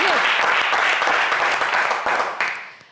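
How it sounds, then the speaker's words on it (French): Loud studio audience applause on a French television game show, dense clapping from a crowd that starts at full strength and gradually fades over three seconds, with a brief voice at the very start. "on va l'applaudir très, très fort pour l'encourager."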